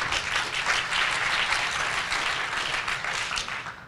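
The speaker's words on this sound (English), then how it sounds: "A round of applause for my friend," Audience applause for a presenter at a data and local communities talk: continuous, moderately loud clapping that swells briefly and then tapers slightly toward the end, with no talking over it.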